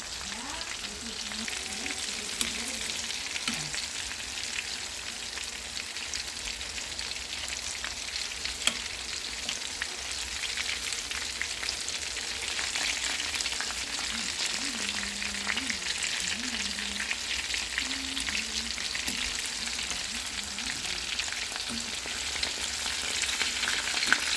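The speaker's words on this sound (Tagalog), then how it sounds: "fried chicken for dinner. First part, and that's the second batch right here." A batch of fried chicken crackles and sizzles steadily in hot oil, a dense, continuous hiss heard close up with small pops throughout and faint voices in the background.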